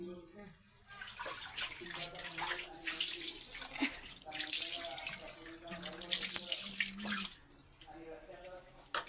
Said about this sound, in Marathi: रुपाचे भांडे झाले घासून